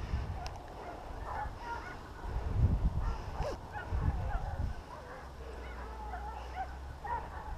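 Hunting dogs, porcelaine hounds on a wild boar hunt in the Cabardès countryside, bark and yelp intermittently along a farm track, several voices overlapping at moderate distance over a low rumble of a slowly rolling vehicle.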